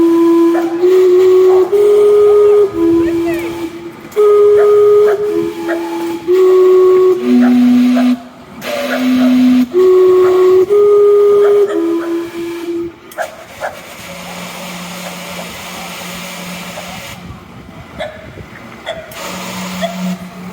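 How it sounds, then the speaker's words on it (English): Vancouver's Gastown steam clock sounds its hourly chime, a loud sequence of clear steam-whistle notes in a repeating melody, followed by a lower sustained whistle tone with hissing steam. "we'll see how the steam clock works out during every hour."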